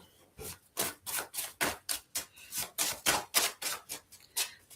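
A deck of cards being shuffled close by, a quick series of soft, papery riffling bursts in an uneven rhythm, fairly quiet, with no talking.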